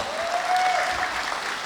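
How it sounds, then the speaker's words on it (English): A crowd at a company annual meet and awards night claps steadily, a dense wash of applause with a faint tone drifting through it. "Very big round of applause for Monis Bhai."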